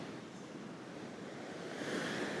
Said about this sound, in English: The waves are massive.